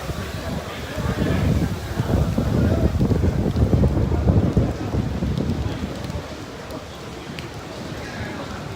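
Strong wind buffeting the microphone over an outdoor football pitch during a Castellammare vs Cus Palermo Eccellenza Sicilia match, a loud rumbling roar that swells through the middle and eases toward the end, with a commentator talking over it.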